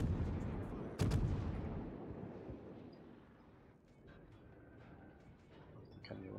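Naval guns firing in a warship video game: one heavy boom near the start followed by a long rumbling decay, then quieter distant thuds and low ambient roar.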